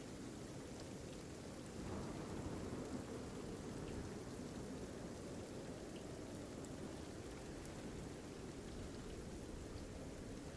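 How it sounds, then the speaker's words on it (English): Steady rain pelts down on a deck in a dense, continuous wash, with low thunder rumbling underneath throughout; a slight swell in intensity comes around two seconds in, and no voices are heard. "the rain keeps pelting down, hitting the surface here"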